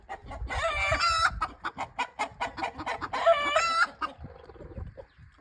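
Chickens on a farm: loud, close hen clucking and squawking calls in two bursts, with short sharp clucks between them, fading to quiet at the end.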